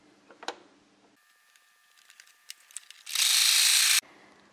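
A sewing machine stitches the edge of fabric for a neckline or cuff, starting with quiet mechanical clicks and ticks, then running in a loud, steady whir for about a second before stopping.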